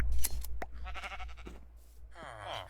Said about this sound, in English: let's shear up the sheep for a bit more wool